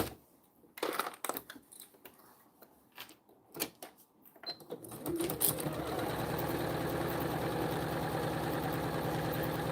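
A sewing machine stitches down the side of a vinyl zippered pouch. Scattered handling taps come first, then a steady mechanical whirr runs close and loud for several seconds.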